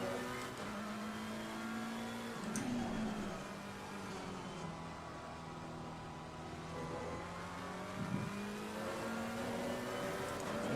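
A Porsche GT3 race car in Assetto Corsa Competizione races on a circuit, its engine droning and shifting pitch steadily through a corner, with another car's engine layered faintly underneath.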